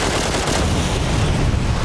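Shotgun fire in the battle royale game PUBG, heard through a budget SIGNO HP-822 7.1 gaming headset: dense, continuous loud gunfire and blasts filling the whole short stretch with no voices.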